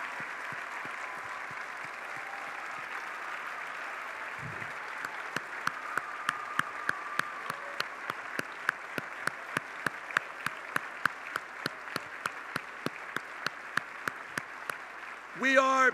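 An audience at a robotics competition closing ceremony claps steadily for the volunteers, a dense wash of applause that goes on throughout. Sharp, evenly spaced knocks sound over it and a voice breaks in briefly at the very end.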